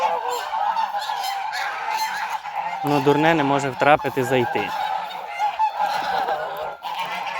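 Geese let loose from a yard in the morning honk loudly and close by, with a dense, overlapping chorus that swells in the middle. Someone talks over the flock.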